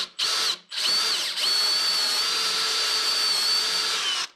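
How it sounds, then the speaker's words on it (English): A power drill bores a hole into a wooden bed frame, its high whine running steadily and close after two brief starts, with no talking. "I'm going to drill this hole just so I have enough space"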